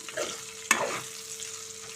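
Ivy gourd pieces sizzle softly in a pan, with one sharp utensil clack partway through and a faint steady hum underneath.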